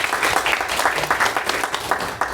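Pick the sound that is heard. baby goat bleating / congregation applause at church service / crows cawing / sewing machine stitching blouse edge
congregation applause at church service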